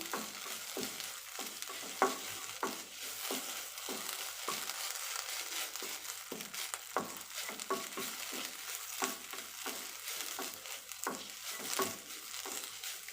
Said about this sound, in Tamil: இந்த பச்சை கலர் மாறாமல் நல்லா நம்ம வறுத்து எடுத்துக்கலாம் ஒரு மூணு நாலு நிமிஷம் நல்லா இதில் நம்ம வறுத்து எடுத்துக்கலாம்